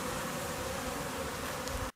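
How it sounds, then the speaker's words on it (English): Honey bees buzzing at a backyard hive in spring, a dense, steady drone of many insects close by that holds evenly throughout, then cuts off abruptly at the end. "Lots of bees."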